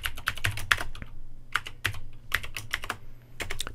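Steady typing on a computer keyboard in a word processor, a brisk run of close, crisp key clicks in irregular bursts with short pauses, heard alone without speech.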